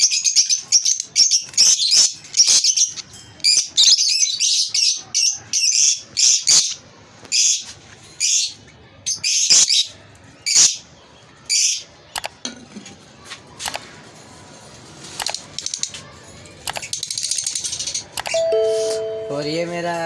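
Fischer's lovebirds in a breeding setup chirp loudly and close in rapid, shrill bursts. The calls thin out into scattered tweets, and a brief electronic chime sounds near the end.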